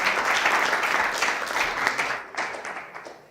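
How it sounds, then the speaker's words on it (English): Sustained audience applause with dense overlapping claps after a pitch at an innovation fellowship final, loud and steady throughout, tapering slightly near the end. "Let's give a round of applause for Mustafa"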